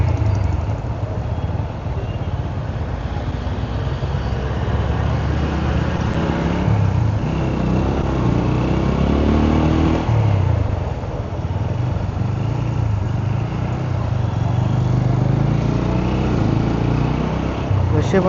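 Steady engine and road noise from a motorcycle riding through city traffic in Satara, Maharashtra, a continuous loud drone with wind rumble and a voice talking over it.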